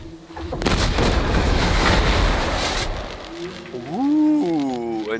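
Loud roaring blast of a trap exploding in the game Horizon Zero Dawn, a sustained noisy burst lasting about two seconds, followed by a rising and falling machine cry.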